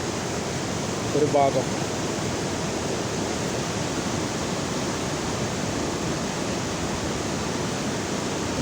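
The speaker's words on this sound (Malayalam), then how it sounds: "എല്ലാ ഷട്ടറിൽ നിന്നും വെള്ളം വന്നിങ്ങനെ കൃത്യമായിട്ട് വന്ന് വീണുകൊണ്ടിരിക്കുന്നത്" Water pours from the shutters of a dam on the Bharathapuzha river as a loud, continuous broadband roar, with someone speaking briefly over it near the start.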